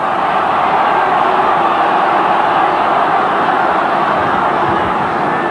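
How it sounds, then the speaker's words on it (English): Rugby league stadium crowd at a 1991 Manly versus North Sydney semi final, a dense, steady roar of many voices holding loud and even throughout, with no single voice standing out. "The crowd was quick to respond to this one."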